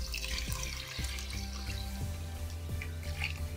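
Eight tumblers of water are poured into a pot for home-made prawn biryani, giving a continuous close splashing gush with a few dull knocks, and no one speaks.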